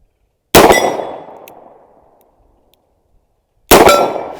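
Two loud, sharp gunshots from a Smith & Wesson 686 Plus .357 Magnum revolver at an outdoor range, spaced about three seconds apart. The first rings a steel target and leaves a long metallic decay.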